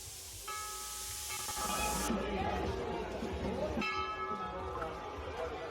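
A temple bell is struck twice at a Shivratri fair, a few seconds apart, each ring leaving a bright lingering tone amid a noisy crowd and nearby talking.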